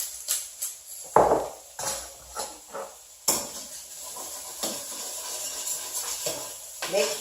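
Charred potatoes and onions scraped off the bottom of a frying pan, a series of short, close scratching strokes with faint sizzling underneath and a voice talking between them.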